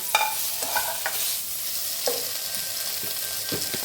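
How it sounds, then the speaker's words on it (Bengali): Boiled potatoes stirred into a pan of frying tomato, chilli and spices, with a steady close sizzle and several sharp scrapes and clinks of the spatula against the pan. "2 মিনিট নাড়াচাড়া করে আমি একটু সেদ্ধ করে রাখা আলু দিয়ে দিলাম"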